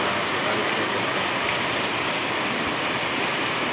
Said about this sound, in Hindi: सुबह से ऐसे ही बारिश गिर रही है।